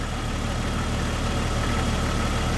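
A 1997-or-later Jeep Cherokee XJ engine idles steadily and close by, a continuous low mechanical hum with a slightly high idle and no other sounds.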